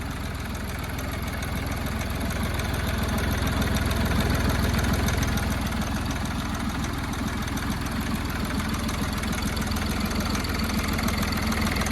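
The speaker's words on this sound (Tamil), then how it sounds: "இன்ஜின் ஸ்டார்ட் பண்ணி ஐடிங்லேயே வந்து பார்த்தீங்கன்னா டைமிங் செயினோட நாய்ஸ் அதிகமாக இருந்தது" An idling Hyundai Xcent engine runs steadily up close, with a constant rattling, ticking timing chain clatter throughout and no voices.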